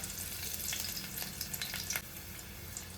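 Garlic and curry leaves hit hot oil in a pan, a loud, crackling sizzle with bright spits and pops that settles into a steady frying hiss, heard up close with no talking.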